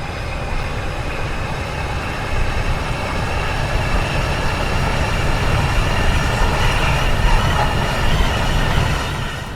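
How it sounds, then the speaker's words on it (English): A steady, loud rumble of a Class 390 Pendolino train rolling along rails in the video game SCR, rising slightly in intensity, with a continuous mechanical roar and faint rhythmic rail noise. "It also has some rail sounds."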